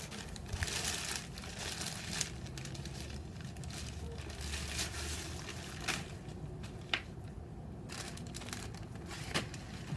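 Plastic packaging around rose plants crinkles and rustles as it is cut open, with scattered soft crackles and a few sharper snips, close and fairly quiet.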